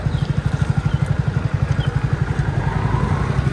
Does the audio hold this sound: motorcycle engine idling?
yes